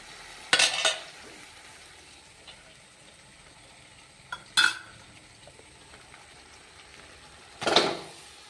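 Rice tossed and stirred into spiced oil in a home kitchen pan, three sharp scraping, clattering bursts of spoon against pan, widely spaced, close and fairly loud, with quiet stretches between.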